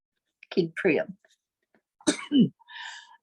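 Two short, close coughing fits separated by a pause, followed by a brief tonal hum.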